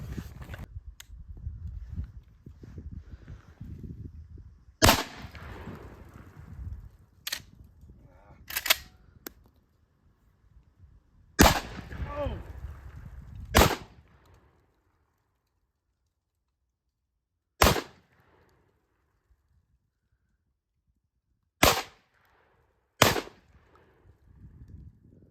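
A Beretta 1301 semi-automatic shotgun fires at an outdoor range, sharp isolated reports spaced several seconds apart, some amid handling clatter and quiet gaps.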